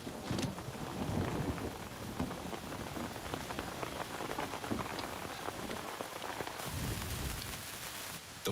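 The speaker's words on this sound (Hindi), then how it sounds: "यहाँ पर बारिश हो रही है" Heavy rain falls steadily and close by, a dense continuous patter hitting surfaces throughout, with no break in the downpour.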